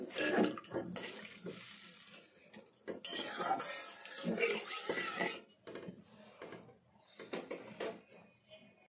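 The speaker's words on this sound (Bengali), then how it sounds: "তখন আমি দিয়ে দেব পরিমাণ মতো জল।" Water is poured into a cooking pan for a pangas fish curry, giving irregular splashing bursts mixed with clattering of pots and utensils at close range.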